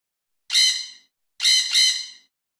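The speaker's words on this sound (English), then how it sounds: "Tropical bird." A tropical bird makes harsh, loud squawks: one on its own, then a quick pair run together, with silence between.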